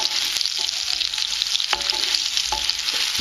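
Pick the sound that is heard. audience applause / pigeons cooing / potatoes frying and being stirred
potatoes frying and being stirred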